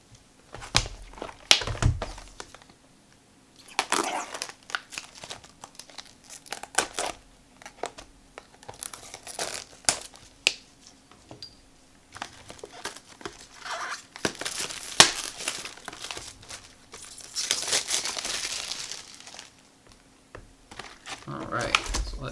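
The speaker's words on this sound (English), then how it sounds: "Have some fun opening packs" Weiss Schwarz Rent-a-Girlfriend booster packs are torn open, their foil wrappers crinkling and rustling in irregular bursts close by, with speech mixed in throughout.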